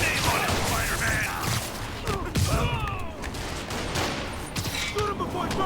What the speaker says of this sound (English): Spider-Man, open fire!